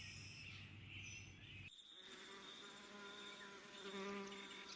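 Asian hornets buzz steadily in front of beehives, a continuous droning hum of several insects with shifting pitch as they fly near, with no talking.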